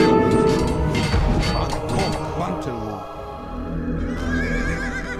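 Horses neigh and whinny in Age of Empires II, with clip-clop hoofbeats and scattered game crashes under a busy, loud mix.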